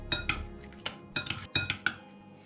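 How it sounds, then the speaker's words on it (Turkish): A metal utensil stirs squid in a frying pan, giving repeated sharp clinks and scrapes at an uneven rhythm, close and fairly loud, with no voices. "Biraz daha karıştırıyoruz."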